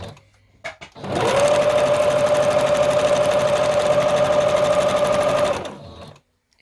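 A sewing machine stitching fabric runs steadily for several seconds, a fast, even mechanical whir with a constant hum, then stops.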